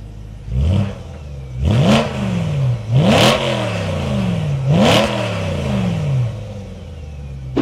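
A BMW M3 E92 with its V8 engine revs hard in a series of three or four rising blips, each climbing and falling back, loud and close with a raspy tone and no talking.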